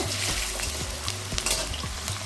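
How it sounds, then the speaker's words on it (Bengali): Medium-sized cut potatoes frying in hot mustard oil, a steady crackling sizzle with soft intermittent stirring scrapes, close and continuous throughout. "তেল গরম হয়ে গেছে এবার দিয়ে দিচ্ছি দুটো আলু কেটে রেখেছিলাম মিডিয়াম সাইজে আলুটা ভেজে নেব"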